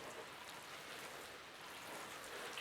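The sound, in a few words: watering freshly potted taro plants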